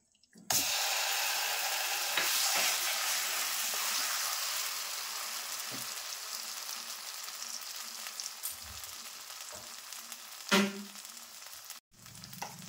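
Homemade chhana cheese hits a very hot wok with a sudden loud sizzle that keeps going, broken by a few scraping stirs and a sharp clatter near the end, with no voices.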